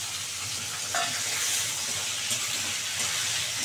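A whole tomato sizzles in a pan of frying onions, a steady close hiss and crackle of hot oil running throughout with faint stirring clinks, no voices.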